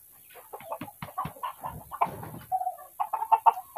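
Backyard hens cluck and squawk near the coop in a busy, irregular run of calls, close and fairly loud, with no talk.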